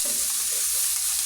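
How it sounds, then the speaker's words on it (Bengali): Mixed vegetables (yardlong beans, carrot, peas and corn) with panch phoron powder are stirred in a pan, giving a short, steady, close-up sizzle with soft scraping from the spoon and no voices. "এটিকে কিছুক্ষণ এভাবে নাড়াচাড়া করে নিতে হবে"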